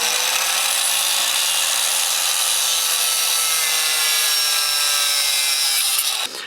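A length of plumbing hose being sawn through by hand, a steady close rasping cut that runs unbroken for about six seconds before stopping abruptly, with no talking.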